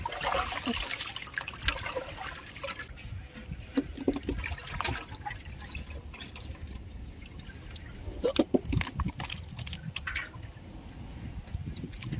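Raw prawns being rinsed by hand in a bowl of water while preparing prawn 65, with steady trickling, sloshing and splashing up close and a few sharper splashes, no talking.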